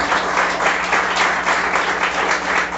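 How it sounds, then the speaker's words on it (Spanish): A church congregation applauding together, a dense, steady burst of many hands clapping that stays loud throughout with no pauses. "Va a darle ofrenda de palmas al Señor con todo su corazón"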